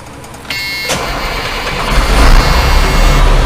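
Pickup truck engine starting: a brief cranking burst, then the motor catches and settles into a steady, close, rumbling idle that swells slightly.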